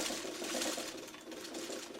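A sewing machine runs steadily while stitching a Dresden quilt block, its fast needle chatter continuous and close throughout, with no talking.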